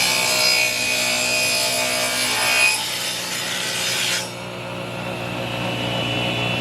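Wood is cut into frame rests for homemade bee boxes with a continuous, loud, raspy cutting noise close by, which changes in tone and then drops to a quieter grind partway through.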